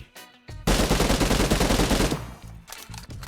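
A sustained burst of rapid automatic gunfire in a video game, loud and dense for about two seconds, then trailing into a few scattered shots and echoes.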